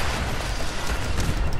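Chaotic explosions in the video game Fallout 4, running a quest mod, form a loud, continuous roar of blasts and deep rumbling that fills the whole moment.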